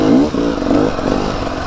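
A Beta RR300 motorcycle climbing a hill, its engine loud and close with a steady, rasping drone that wavers in pitch as the throttle shifts.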